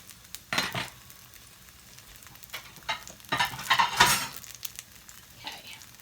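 Eggless, milk-free pancakes sizzle gently in a frying pan as bubbles form, with intermittent utensil scrapes and stirring noises rising and falling over a steady low hiss.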